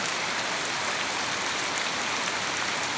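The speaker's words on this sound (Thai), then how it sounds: "เพื่อนๆได้ยินเสียงฝนไหมคะ" Steady, dense hiss of heavy rain pouring down in Pattani, Thailand, without a break, constant and loud with no other sounds.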